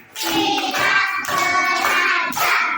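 Rhythmic hand clapping in quick patterned bursts in a classroom, with several claps grouped between short pauses, close and fairly loud with a group of children joining in.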